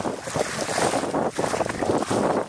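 Steady wind rushes and buffets the microphone aboard a sailboat on the open ocean, with a constant washing roar and no voices.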